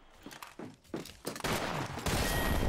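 Gunfire crackles in the battle royale shooter Apex Legends, starting as a few spaced shots and building into continuous loud rapid bursts at close range, with no talk heard.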